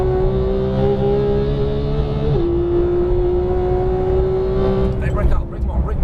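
A Porsche GT3 sports car engine holds a loud, steady high-pitched wail on a racetrack, dips briefly as it shifts, then climbs again before easing off; someone talks over it.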